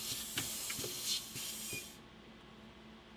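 A compressed-air pad printing machine printing on a face mask gives off sharp pneumatic hisses punctuated by a few soft mechanical knocks, then the air cuts off and it falls quiet.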